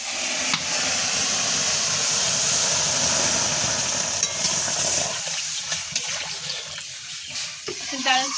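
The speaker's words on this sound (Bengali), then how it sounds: "জলটা দিয়ে দিলাম" Water pours in a steady, loud rush into a pot of cooking moong dal with fish head, then trails off into softer bubbling and splashing near the end.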